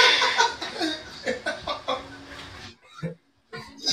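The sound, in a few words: voice imitating chicken clucking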